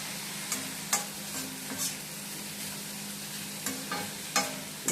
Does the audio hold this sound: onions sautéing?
yes